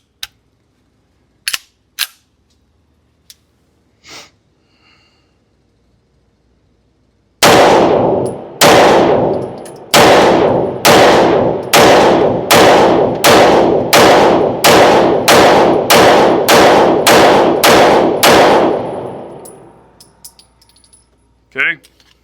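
A full-size CZ Shadow 2 pistol fires 15 rounds in a steady, evenly spaced string. The shots are loud and close, with sharp cracks and brief decays, and there are a few faint clicks beforehand.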